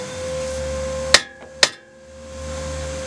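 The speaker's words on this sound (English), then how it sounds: "so I'm going to try and hammer it out" Two sharp metallic hammer blows ring out about half a second apart, hammering out a ball joint on an Integra, loud and close, against a steady background hum.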